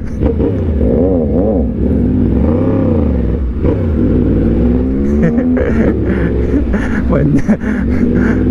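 A loud Yamaha MT-09 motorcycle engine roars and revs up and down nearby on a night city ride, with a rough, throaty growl and wind rumble, and a voice talking over it.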